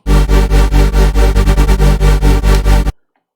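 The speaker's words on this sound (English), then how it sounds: "again, regular supersaw stuff" Thick, buzzing supersaw synth chords with pitch envelopes off, made in Sytrus, pulse in a fast rhythmic future bass pattern, loud and dense, then cut off abruptly into silence.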